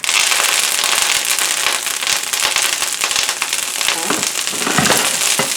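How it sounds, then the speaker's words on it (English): Kale dropping into hot olive oil in a pan, a dense, steady crackling sizzle with sharp pops throughout, loud and close, swelling slightly near the end as the greens settle into the oil. "The kale's gonna pop. We'll put it right in."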